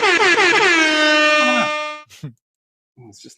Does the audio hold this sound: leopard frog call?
no